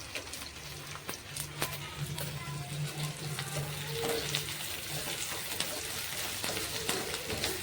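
Mustard seeds fry in hot oil with a faint, steady crackle and light scattered pops, moderately quiet, alongside a low hum in the background.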